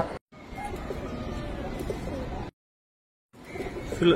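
Silver Giribaz pigeons coo softly and steadily from close by, a continuous murmur that drops out for about a second before the cooing resumes.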